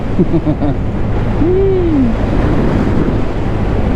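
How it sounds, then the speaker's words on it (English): Strong wind roars across the microphone in a constant, heavy rush while riding a 2023 Honda Grom, with a faint high whistle or whine drifting briefly through it. "the wind is just going crazy"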